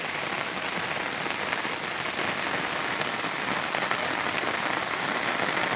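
Heavy rain pours down steadily during lift-net fishing outdoors, a dense, loud, unbroken hiss of drops on water and surfaces with no voices.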